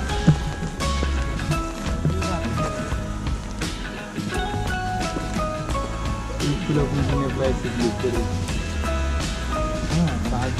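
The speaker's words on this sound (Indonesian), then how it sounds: "Hujan" Rain falls steadily during a mountain hike on Gunung Bekel via the Jolotundo route in Mojokerto, a dense continuous patter heard throughout, with voices talking over it.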